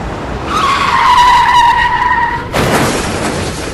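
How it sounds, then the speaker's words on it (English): A car's wheels lock and the tyres shriek in a long, loud squeal as the vehicle skids off the side of a road, then an abrupt harsh scraping crunch cuts in and continues. "The wheels of her car became locked, and the vehicle continued to skid off the side of the road"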